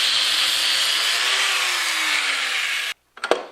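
Steady broadband cutting noise from a tool slicing through stainless steel sleeved hydroboost hose on a Coyote-swapped Foxbody Mustang, running loud and continuous for about three seconds, then stopping abruptly before a few short knocks.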